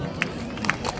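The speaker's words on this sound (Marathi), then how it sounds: "कार्यक्रम जर तुम्हाला आवडत असेल तर जरा टाळ्यांचा" Crowd noise from an audience at a school gathering for schools across the taluka, with a few scattered claps standing out in a brief, busy burst.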